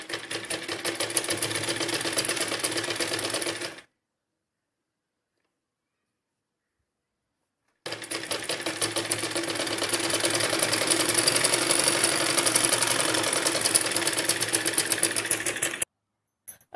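An electric sewing machine stitches a fitting seam on a gown bodice, whirring in a steady, dense hum for a few seconds, stopping for a short silent pause, then running again in a longer, even stretch close by.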